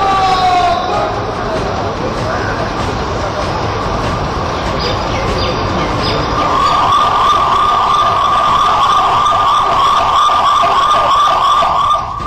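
An ambulance siren wails loudly and continuously during a security drill at the Red Fort in Delhi, its pitch sweeping in rising and falling cycles close by, with voices faintly underneath.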